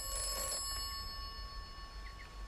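Telephone ringing in the video game Atomfall, a steady electronic ring tone with sustained tones over a low background hum, heard briefly and close with no speech.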